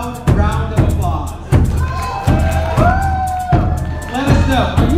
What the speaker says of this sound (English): Please give yourselves a loud round of applause.